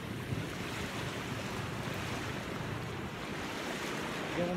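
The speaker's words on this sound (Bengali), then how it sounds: "দেখেন সাগরের গর্জন কত বড় বড় ঢেউ" Bay of Bengal surf at Cox's Bazar beach roars in a steady, dense wash of breaking waves, with wind buffeting the microphone and no voices.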